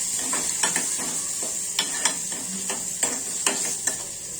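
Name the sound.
sautéing garlic, chilli, peanut paste and tomato for palak paneer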